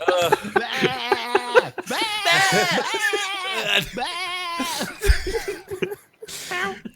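Someone imitates a sheep with a run of wavering, nasal bleats, mixed with chuckles, a cough and bits of nearby talk among a few people.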